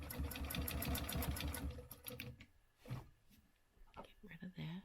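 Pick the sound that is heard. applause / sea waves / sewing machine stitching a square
sewing machine stitching a square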